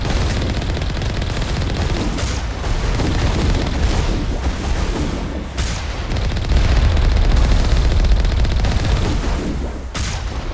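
A turret fires in the Mass Effect video game, with steady, loud, dense bursts and booms that continue without a break, and only brief dips in intensity.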